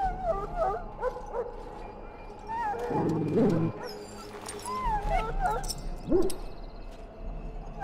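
A dog in a video game whimpers and yips in short bursts, with game voices talking over much of it and a louder whine near the end.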